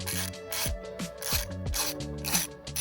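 Tiny Phillips screws being turned out to open a small unit on a Nissan 350Z, a close, quiet run of rhythmic ratcheting clicks and scraping repeated several times, with no talking.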